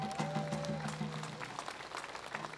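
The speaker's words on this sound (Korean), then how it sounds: "오늘 이 자리 이렇게 아름다운 자리를 마련해 주신 우리 홍성덕 이사장님께 큰 우리와 같은 박수를 보내주시면 감사하겠습니다." An audience at a Korean traditional music festival evening applauds, a soft, steady patter of clapping heard at a distance under the sound system's hum.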